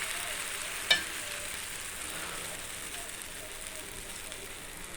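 Thin dosa batter with onions sizzling steadily on a hot pan, a soft continuous hiss with one brief tap near the start, no talking.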